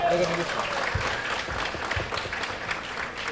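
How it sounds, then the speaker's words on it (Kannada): Audience applause for Kannada actor Ganesh at a film team event, a dense burst of clapping heard close, with a voice speaking over it. "ನಮ್ಮ ಗಣೇಶ್ ಸರ್ಗೆ ಬರಲಿ ಚಪ್ಪಾಳೆ"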